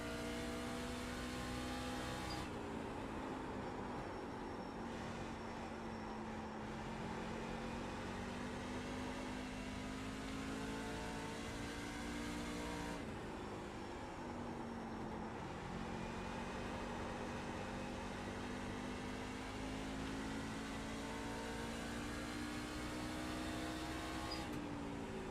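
Simulated NASCAR stock car engine droning steadily around Richmond's short oval in a racing video game, a continuous loud tone that dips and rises slightly as the car slows into corners and accelerates out, with no voices.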